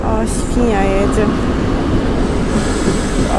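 An electric locomotive hauling a passenger train of retro carriages rumbles past Orzeszkowo station with a steady rolling roar, and a voice speaks briefly near the start over the noise.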